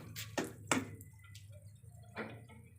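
Water drips and splashes from a faucet in a third-floor house: a few sharp separate splats in the first second, then a softer one later, fairly close over a low steady hum.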